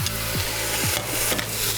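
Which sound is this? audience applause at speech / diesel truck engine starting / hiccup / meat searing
meat searing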